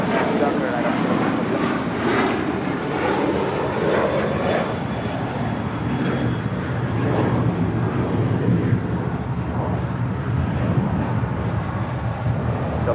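Airliner taking off from runway 25 right at LAX, a loud continuous engine roar that holds steady throughout, with radio chatter faintly underneath.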